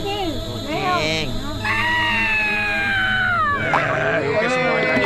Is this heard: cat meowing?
yes